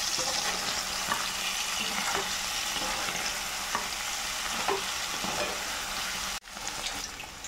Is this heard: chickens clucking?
no